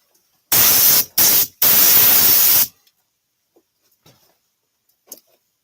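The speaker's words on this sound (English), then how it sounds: "I can hit with a sander real quick" An electric sander works the bottom of a woodturned piece: three loud, close bursts of broadband whirring noise, the last one longest, then near silence with a few faint ticks. No voices are heard.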